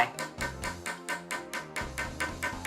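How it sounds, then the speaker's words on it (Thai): A hammer taps into the ground while someone digs for ancient Ban Chiang relics, about ten quick, evenly spaced strikes in a steady rhythm over faint low background sound. "เนี่ยพ่อไปใช้ค้อนขุดสมบัติอีกละ"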